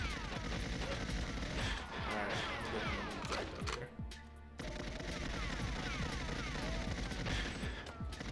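Dense, rapid gunfire from weapons in GoldenEye 007 on the Nintendo 64 rattles loudly and nearly nonstop, pausing briefly midway before the volleys resume.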